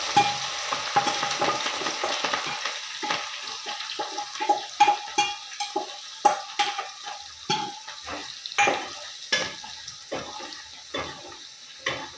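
Garlic and chili paste sizzles hard in a pan with whole spices, loud crackling bursts that pulse and fade in repeated waves as it is stirred, close up and without speech.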